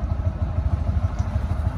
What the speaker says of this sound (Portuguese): Se forem a ver, Chopela é um veículo de três rodas